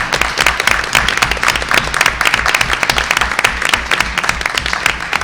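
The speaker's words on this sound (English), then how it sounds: "Let's give her a big round of applause." An audience at a board of education meeting gives an honoree a big round of applause, with loud, dense, sustained clapping from many people that fills the room evenly throughout.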